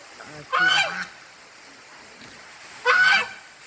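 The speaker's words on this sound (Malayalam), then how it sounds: "ഇവിടെ കുറച്ച് ആഫ്രിക്കൻ താറാവുകൾ" Two loud honking calls from African ducks, each a harsh burst of nasal quacks about half a second long, separated by a quiet pause.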